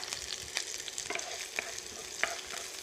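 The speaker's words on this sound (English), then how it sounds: "And we'll start by frying up some onions." Onions sizzle steadily in hot olive oil in a pan, with a scattering of sharper scrapes and clicks as they are stirred, close and moderately quiet with no talking.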